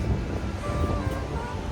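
Sea surf rolls in at a crowded beach, a continuous low wash of waves muddied by wind buffeting the microphone.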